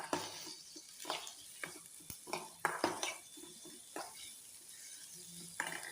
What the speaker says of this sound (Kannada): ಮೆಣಸಿನ್ಕಾಯಿ, ಕರಿಬೇವು, ಕೊತ್ತಂಬರಿನ ಚೆನ್ನಾಗಿ ಬೇಯಿಸ್ಕೋಬೇಕು.